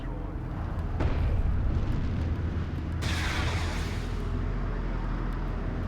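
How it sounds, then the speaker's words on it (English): A missile strikes armored vehicles in the real-time strategy game Homeworld: Deserts of Kharak. The booming impact swells into a heavy, rumbling blast under a constant low battle drone, with a second loud burst following a couple of seconds later. "Missile gonna flomp in here onto the AVs"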